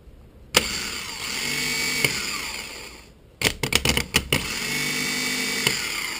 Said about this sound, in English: The motor will then turn a lot quicker and a lot more powerfully.